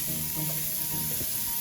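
Jumbo shrimp sizzle in a burning hot pan of olive oil, a steady close frying hiss with faint scraping as they settle.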